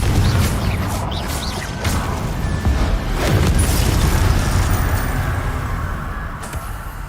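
A loud, sustained rumbling boom from the Confringo fire spell going off in Hogwarts Legacy, heavy low-end roar with crackling debris, steady for several seconds with no voices.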